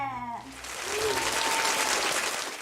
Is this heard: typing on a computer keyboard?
no